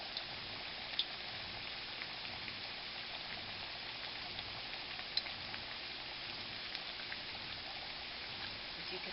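Plantain slices frying in hot oil for tostones, giving a steady, dense crackling sizzle that holds at an even level throughout, with a few faint pops and no talking.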